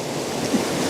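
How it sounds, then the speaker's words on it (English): Roaring waterfalls in Snowdonia, heard from right beside them: a loud, steady broadband rush of falling water, continuous and unbroken, with some wind buffeting the microphone. "I'm really sorry about the noise levels, but I'm right next to the waterfalls."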